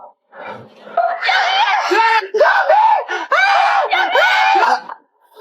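Several people scream and wail together in loud, overlapping bursts of high-pitched voices, rising and falling in pitch across a few seconds, close and intense with short breaks between cries.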